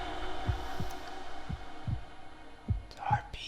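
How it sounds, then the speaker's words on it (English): A heartbeat sound effect pulses through a live performance, deep paired thumps in a steady rhythm under a low hum, with brief voices near the end. "The heartbeat"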